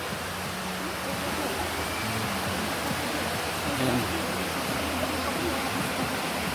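Waterfall at a hidden resort in Infanta, Quezon, its broad steady rush of falling water filling the scene evenly, with a brief voice heard once over the constant roar.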